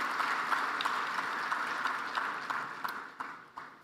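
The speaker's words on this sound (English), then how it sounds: "Can we give him a big round of applause?" A large audience at an energy summit claps together in sustained applause that fills the hall, then thins into scattered claps as it fades.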